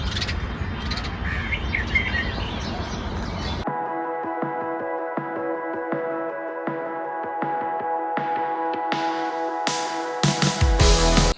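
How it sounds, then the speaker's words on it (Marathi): Many small birds, sparrows among them, chirp through a village morning, first as a dense wash of calls, then as sharper separate chirps over a steady tonal hum, growing louder near the end. "चिमण्यांचा संपूर्ण असा किलबिलाट सुरू होतो."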